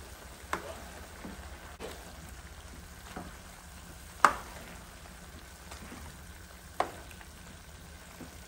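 Lean meat with the fat trimmed off fries in a pan, a soft, steady sizzle running the whole time, broken by a few sharp clacks of a utensil stirring and scraping the pan.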